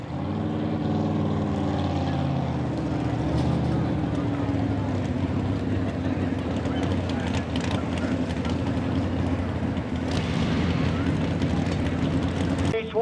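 A high-powered pulling tractor roars down the track at a Lisbon, Ohio noise night in Columbiana County, its loud engine drone climbing in pitch at first and then holding a steady, harsh blare.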